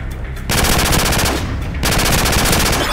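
A P90 in Call of Duty 4 fires in a loud, rapid automatic burst with a steady hammering rhythm, close up. There is a short break in the firing partway through.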